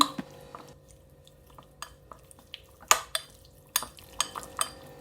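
Boneless chicken pieces being mixed by hand with spices and ginger garlic paste, giving soft wet squelches and scattered clinks of a bowl or utensil, fairly quiet and close, no voices.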